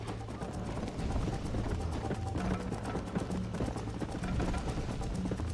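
Hooves of a war horse galloping in a video game horse race, a fast continuous clip-clop rhythm that stays fairly quiet and steady throughout, with only faint voices in the background.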